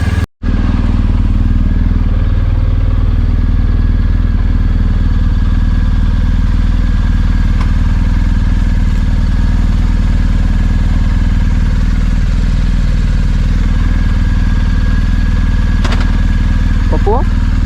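BMW R1250 GSA motorcycle engine running at a steady idle after starting in cold weather, a loud continuous low thrum close by with faint clatter.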